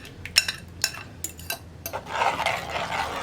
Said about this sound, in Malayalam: ഇതൊന്ന് ഇളക്കി മിക്സ് ചെയ്തിട്ട് നമുക്കിനി തൈര് ചേർക്കാം.